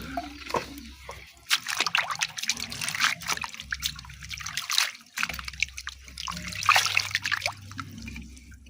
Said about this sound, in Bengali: এই জল এসছে দেখো, সুসুর সুসুর করে, কতক্ষণে যে ভরবে তার ঠিক ঠিকানা নেই।